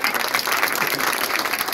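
A church congregation claps steadily through a birthday blessing, giving a dense, continuous patter of many hands at moderate volume.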